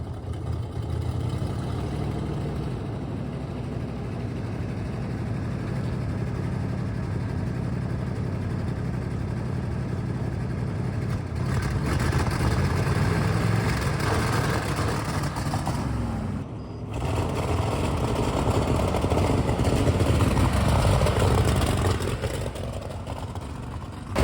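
A 1959 Ford F100 4x4 rat rod truck with a turbo kit, engine running rough, a loud steady mechanical drone that swells and briefly dips before rising again, close by with no speech.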